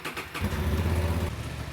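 A motorcycle engine being run during a roadside repair catches and settles into a low, steady idle, fairly close and alone, with a deep throbbing rumble.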